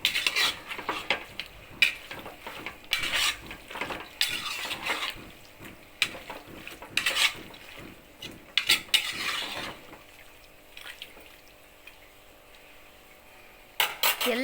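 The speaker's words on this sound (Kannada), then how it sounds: "ಒಂದು ಸಲ ನೀಟಾಗಿ ತಿರುಗಿಸ್ಕೊಂಡು ಎಣ್ಣೆ, ಈರುಳ್ಳಿಲಿ ಇದು ಫ್ರೈ ಆಗಬೇಕು ನೀಟಾಗಿ." Onions stirred in hot oil in a pot for mutton sambar: a run of scraping and clattering spoon strokes over a soft sizzle, close and fairly loud. The stirring stops for a few seconds near the end, then resumes briefly.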